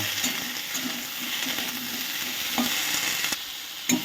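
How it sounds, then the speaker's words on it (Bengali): Okra sizzles steadily in a hot pan with turmeric and salt for a Bengali okra dish, while a spatula stirs and scrapes in quick, regular strokes close up. "এবার আমি ঢেঁড়সগুলোকেও ভালো করে ভেজে নেব"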